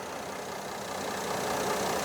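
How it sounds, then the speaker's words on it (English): The engine of a 2018 Mercedes GLE 350 SUV idles smoothly, producing a steady, even hum and hiss heard close up in the engine bay with no voices. "Engine is silky smooth."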